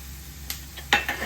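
Chilli flakes hit a hot pan and are stirred, giving a faint sizzle with two brief scraping bursts of stirring, the second louder, in a quiet kitchen.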